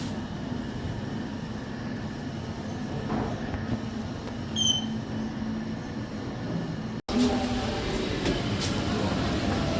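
A Delhi metro train rumbles steadily along the tracks with a low continuous roar, briefly cut off, then resuming with faint metallic squeals.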